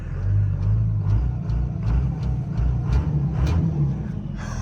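A Cummins diesel engine in a salvage-auction truck runs with a deep, steady low rumble, marked by a regular series of soft knocks or pulses, heard close by with no talk.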